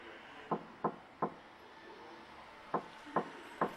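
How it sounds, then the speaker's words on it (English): Knocking on a wooden door in the video game Bai Qu: two sharp triple raps, three quick knocks, a pause, then three more, close and distinct over a quiet background. "I went down the stairs and knocked on the door of Juan's house"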